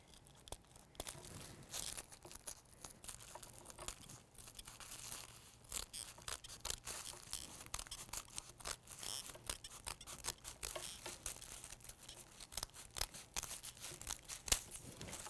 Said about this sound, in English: So we're just gonna cut them so that we don't have it folded together anymore.